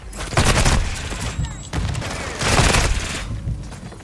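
Call of Duty Modern Warfare 2 gunfire comes in loud, dense automatic bursts, two sustained volleys close together over a few seconds, with brief voices underneath.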